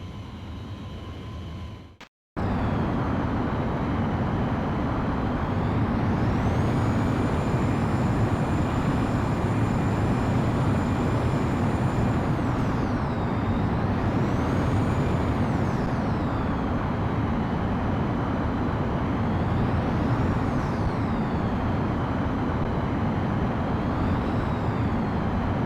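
A fighter jet taking off in the video game Ace Combat X: a loud, continuous engine roar that fills the whole stretch after a brief cut near the start, with thin whining tones rising and falling above it.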